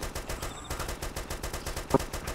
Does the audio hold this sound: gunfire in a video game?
yes